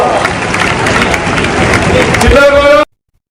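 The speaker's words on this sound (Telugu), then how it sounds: "వారందరూ గట్టిగా చప్పట్లు కొట్టి మీరు కృతజ్ఞత తెలపాల్సిందిగా కోరుతా ఉన్నా" An audience at a Telugu news event applauds in thanks, a dense, continuous clapping and crowd noise that swells slightly before stopping abruptly.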